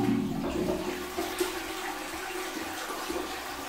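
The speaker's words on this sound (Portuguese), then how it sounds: "Uma descarga agora, sair de perto aqui." A household toilet is flushed, water rushing and gurgling into the bowl, then a steadier refilling trickle, close but fairly quiet, with no one speaking.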